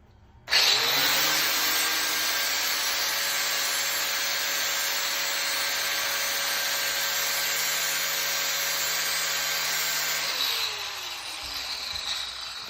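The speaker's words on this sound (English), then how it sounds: "Then we're going to just let our grinder do the work." An angle grinder runs steadily on metal edges on a welding positioner, a loud continuous whine that starts abruptly and holds for about ten seconds before winding down, no voices.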